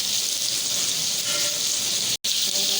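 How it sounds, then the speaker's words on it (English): Onion and potato sautéing in a pan, a loud continuous frying sizzle that holds steady and close throughout, with one abrupt momentary dropout near the end. "Our onion is brown enough. I'm gonna add the potato. So now mix it. We have to saute it for 5 to 10 minutes."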